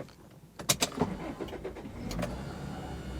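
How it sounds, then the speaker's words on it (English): The power antenna motor on a Toyota Celica GTS whirs and buzzes as the antenna extends. A few clicks and knocks come first, then a steady motor drone holds to the end. "You might have heard a buzzing. That's actually just the antenna up there going up."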